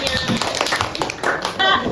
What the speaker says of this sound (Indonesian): Oke, tepuk tangan dulu untuk temannya